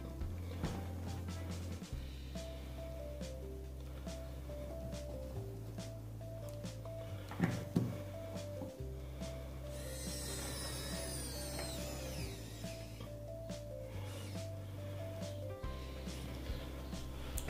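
Xiaomi and Niteo electric precision screwdrivers drive screws in turn, each giving a steady motor whir that holds for a few seconds and then shifts pitch under load, with faint clicks and a brief knock between runs.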